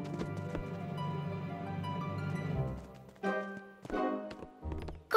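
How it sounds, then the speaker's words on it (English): Cartoon sky horses trot in a children's animated show, rhythmic clip-clop hoofbeats over a bed of music, followed by a few brighter separate tapping bursts. "Come on, let's get the sky horses."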